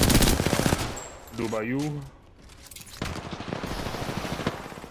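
Rapid bursts of Flatline rifle fire in the video game Apex Legends, loud and close, with a voice talking over the shooting.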